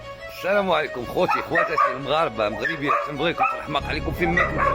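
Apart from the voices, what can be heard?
dog barking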